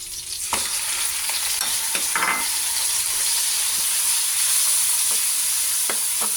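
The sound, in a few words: chicken stir-frying in a pan for pancit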